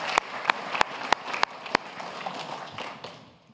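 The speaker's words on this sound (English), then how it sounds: "Let's give Jack a big round of applause." Six sharp, evenly spaced hand claps ring out over a soft background hiss, then stop.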